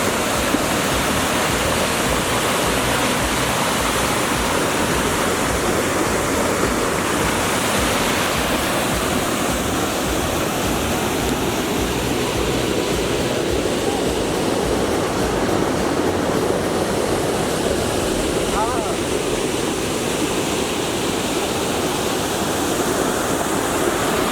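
Devdhara waterfall in Chhattisgarh, a constant, full roar of falling and rushing water that stays loud and unbroken throughout, with no voices.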